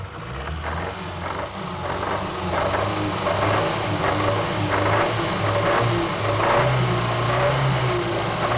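A 1960s car engine with worn big-end bearings runs steadily, with a repetitive knocking tapping through the engine drone. The sound is heard on its own at moderate level, with no talk.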